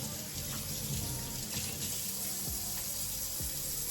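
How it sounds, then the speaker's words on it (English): Raw meat is rinsed under a running kitchen faucet, a steady close hiss of water splashing into a sink with a few duller thumps of handling, no talking. "You take your meat, you wash it off."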